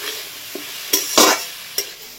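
Potatoes and tomato fry in a pan, a soft steady sizzle broken by a few sharp spatula scrapes and stirs, close up with no talking.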